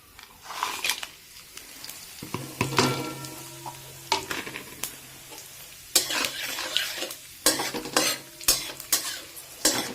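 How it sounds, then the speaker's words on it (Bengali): Whole garam masala spices frying in hot oil, a close steady sizzle broken by sharp clinks and scrapes of a spoon stirring against the pan, with a few quick clusters of louder taps. "এটা কয়েক সেকেন্ড জাস্ট একটু ভাজা হবে"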